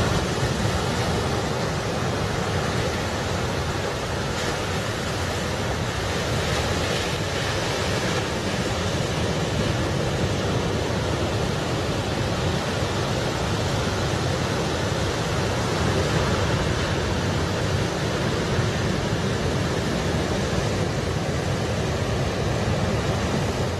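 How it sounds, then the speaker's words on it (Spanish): Anomalous ocean swell on the beaches of Carquín, a continuous broadband roar of breaking surf, loud and steady with no pauses or voices. "en estas horas se está viviendo un oleaje anómalo"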